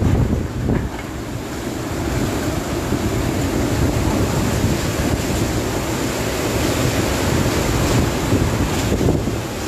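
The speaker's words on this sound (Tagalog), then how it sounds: "Malakas yung hangin dito sa ating location ngayon sa Naga City Police Office." Strong gusts from Super Typhoon Rolly (Goni) roar across Naga City outside the police office, a loud, continuous buffeting rush with heavy wind noise on the microphone and no speech.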